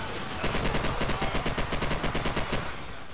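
Rapid automatic AK rifle fire in Call of Duty 4, one sustained burst of about a dozen and a half evenly spaced shots, loud and close, with no voices over it.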